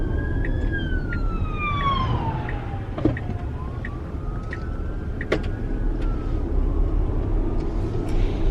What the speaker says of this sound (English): emergency vehicle coming past on my left